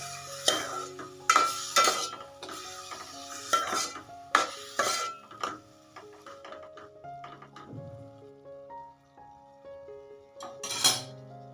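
Grated carrot halwa is stirred and sautéed in a pan, with repeated metallic scrapes and clinks of a spoon against the pan in bursts, then quieter stirring.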